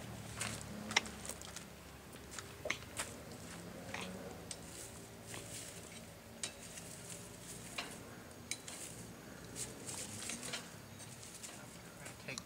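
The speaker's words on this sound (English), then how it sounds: "Alright, we're gonna flip our corn." Fire-roasted corn being flipped on a camping grill: scattered metallic clinks and scrapes of utensils against the grate, with sizzling crackle underneath and brief clattering knocks at irregular intervals, fairly quiet and close.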